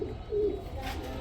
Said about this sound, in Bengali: লুটন কবুতর, হোয়াইট কালার লুটন মাশাআল্লাহ